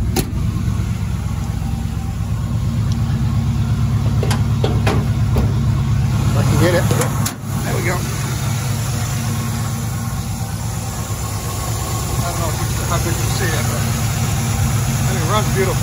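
A 1967 El Camino with a 283 engine idles steadily and loudly up close, a smooth continuous rumble throughout, with someone speaking briefly over it.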